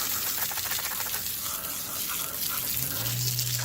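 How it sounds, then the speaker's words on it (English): Water sprays steadily onto a car tire and rim from a hose, a loud continuous hiss throughout with a low hum rising near the end. "in this case I'm just going to use some water"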